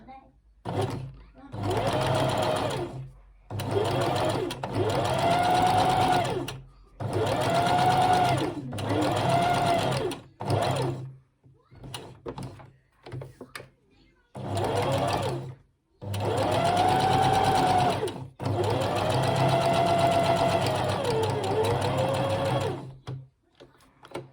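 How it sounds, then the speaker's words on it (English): A sewing machine stitches around the outside of a fabric bunny in several long whirring runs with short pauses between them, close and steady, while a person talks over and between the runs. "So just going to sew around the outside."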